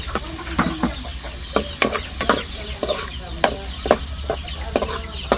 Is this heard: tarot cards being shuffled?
no